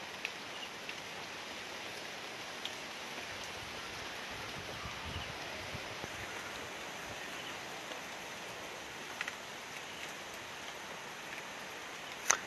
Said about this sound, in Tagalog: mahina lamang naman po yung pag-ulan na dulot naman po nitong bagyong si Julina.